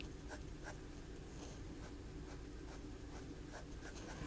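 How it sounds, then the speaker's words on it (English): A fountain pen nib scratches across paper in short, repeated strokes, faint and close, each stroke a light rasp with quiet pauses between, and no voices. "this nib writes very nicely"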